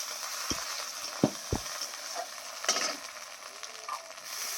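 Mango pieces frying in hot oil with ginger-garlic paste and garlic, a soft steady sizzle with a few sharp clicks of a spatula against the pan.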